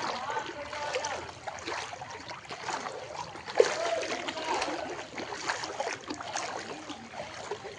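Floodwater sloshing and splashing through a flooded street in Hailakandi, a steady wash of water noise with small bursts of splatter, moderately near and continuous throughout.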